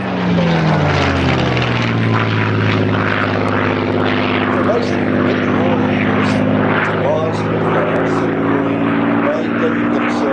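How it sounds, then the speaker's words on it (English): Loud, steady drone of Rolls-Royce Merlin piston aircraft engines with propeller harmonics, a multi-engine plane passing close and holding its roar throughout, with faint talk underneath. "you can enjoy that magnificent sound of the Merlin engines"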